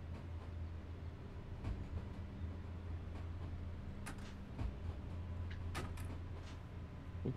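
Passenger train running in the SimRail train simulator game, a steady low rumble with rolling wheel noise and occasional clanks and high squeals, fairly close and continuous, with no talking.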